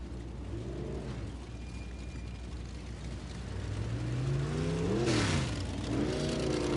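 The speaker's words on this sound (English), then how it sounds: "So the field will run through the moisture here down the front straightaway and into turn 1 as we work it back into the clay" Vintage race cars on a clay track run down the front straightaway toward turn one, engines droning steadily and swelling louder as the field passes close, with rising and falling pitch sweeps.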